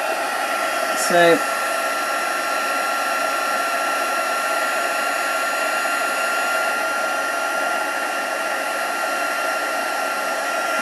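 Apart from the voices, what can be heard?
heat tool melting embossing material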